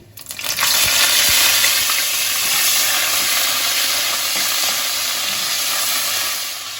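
Ginger paste dropped into hot tempering oil for a Bengali bottle gourd and prawn curry, a sudden loud sizzle that rises quickly and holds as a steady close crackling hiss before easing slightly at the end.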